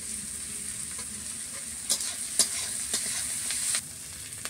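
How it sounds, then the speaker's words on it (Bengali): Onion and chopped green chili fry lightly in a pan during Indian village cooking, giving a steady close sizzle with a few sharp stirring scrapes. "পেঁয়াজটা আমি বেশি ভাজবো না, হালকা একটু ভাজবো"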